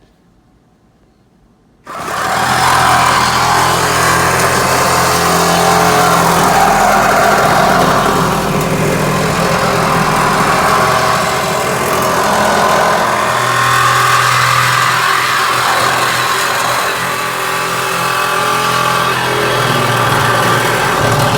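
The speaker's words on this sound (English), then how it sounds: "Got my Milwaukee sawzall." A Milwaukee Sawzall reciprocating saw cuts into the steel wall of a 20-foot shipping container, starting abruptly after a short quiet moment and then running as a loud, continuous buzzing rasp close by.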